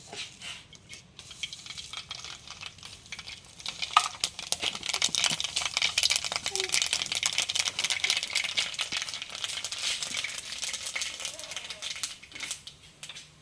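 Mustard seeds pop and crackle in hot coconut oil, with many quick, irregular snaps over a soft, steady hiss close by.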